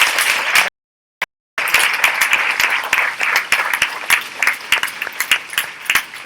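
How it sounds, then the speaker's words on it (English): Audience applauding at a middle school winter concert, a dense sustained wash of many hands clapping, cut by a brief gap of near silence early on before the clapping resumes and continues steadily to the end. "I think a special round of applause to the students who joined us from the lower school"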